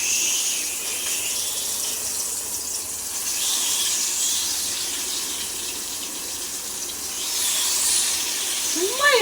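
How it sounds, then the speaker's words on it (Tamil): Masala-coated fish frying in hot oil, a steady loud hiss and crackle of sizzling throughout, swelling slightly at moments, with no talk. "மசாலா போட்ட மீனை இப்போ எண்ணெயில் போட்டுடலாங்க"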